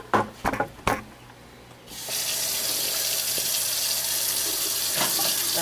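Cold water from a kitchen sink tap starts after a few brief clunks and handling knocks, then runs as a steady, close splashing rush to the end.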